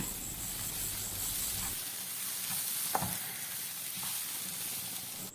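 Onions frying in a pan with chilli, pepper and garam masala powders for Kerala-style prawn biryani, a steady soft sizzle and hiss with faint stirring scrapes, fairly quiet and close, with no talk.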